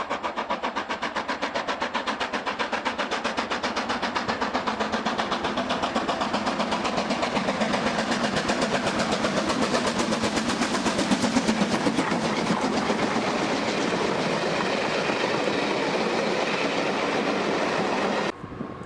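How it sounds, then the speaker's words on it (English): Train hauled by steam locomotive 45407 on the West Highland Line above Helensburgh, a continuous loud passing rumble with rapid rhythmic chuffing and wheel clatter that holds steady for nearly twenty seconds before cutting off. "45407 made its way back north from Carnforth that April, captured here at milepost 3 on the line above Helensburgh"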